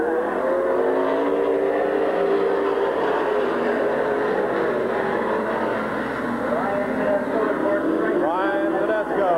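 Race cars roaring as the 25-lap feature gets under way at Midvale Speedway, a continuous loud pack of engines revving and passing, with a public-address voice talking over the din.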